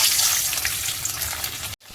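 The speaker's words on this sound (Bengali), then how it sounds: "এবার আমি পনিরগুলো ভেজে নেব।" Paneer frying in hot oil in a kadai gives a steady, dense sizzle with a crackling hiss, then cuts off abruptly just before the end.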